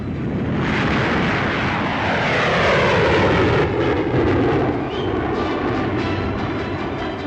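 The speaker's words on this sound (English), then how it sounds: "pilots the latest version of the Canberra jet bomber, which is now going into production for the RAF." An English Electric Canberra jet bomber powered by two Avon gas turbines flies past, a loud sustained jet roar that swells and shifts in pitch as it passes overhead.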